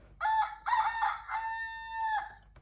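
A rooster crowing once, a clear, drawn-out cock-a-doodle-doo in several rising segments, close and alone against a quiet background.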